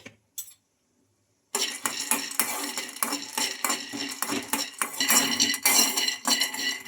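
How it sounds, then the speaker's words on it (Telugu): Peanuts roasting in a kadai, stirred with a metal spoon: repeated scraping and clinking of spoon against the pan, close and fairly loud, after a short quiet start. "ఇంకా అదే కడాయిలో పల్లీలను అయితే వేయించుకోవాలి."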